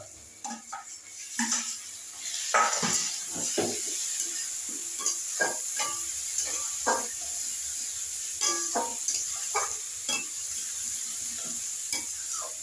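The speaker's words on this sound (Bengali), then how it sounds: "দিয়ে দিচ্ছি আদা এবং রসুন পেস্ট করা।" Ginger and garlic paste frying in a pan of crab curry, a steady loud sizzle under repeated scraping and clinking strokes of a stirring spoon against the pot.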